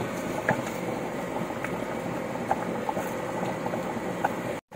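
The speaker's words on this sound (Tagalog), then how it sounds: "Yan, kumukulo na." A pot of chicken tinola soup bubbling at a steady rolling boil, dense popping and gurgling throughout, close by, briefly cut off near the end.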